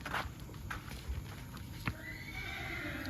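A mare neighs and whinnies clearly, with a few hoof clops on hard ground, moderately close amid a steady outdoor background hiss.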